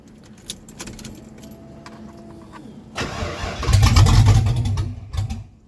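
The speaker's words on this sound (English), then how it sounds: "So I thought I'd give you a little taste of cold start." Keys jingle softly before a car engine is cold started, cranking and catching into a loud rough rumble that settles toward idle, heard close with no talking.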